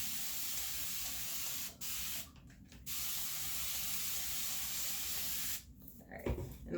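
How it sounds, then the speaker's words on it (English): A spray bottle hisses water onto hair in a long continuous burst, broken by brief pauses, with a few short squirts toward the end. "your arm gets tired from doing all that spraying"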